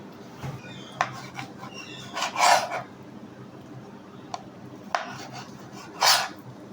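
A knife cutting chicken into small pieces in a home kitchen: scattered, sparse taps and clinks against a board or dish, fairly quiet against a faint steady background hum.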